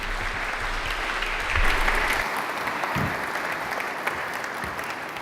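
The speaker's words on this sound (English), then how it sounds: "he wasted them on the applause that he milked from the audience" Steady, moderately loud audience applause after a fintech presentation on financial-sector innovation, a continuous wash of clapping from a sizeable crowd with no voices over it.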